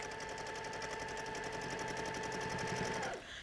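A sewing machine quilting a quilt, running steadily back and forth through the layers with a fast, even mechanical chatter that stays loud and close before stopping abruptly near the end.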